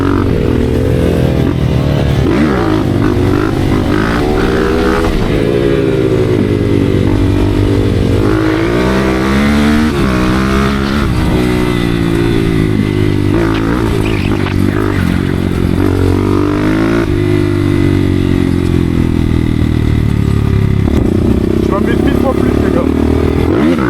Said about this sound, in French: Elle se lève trop bien cette moto, c'est dinguerie.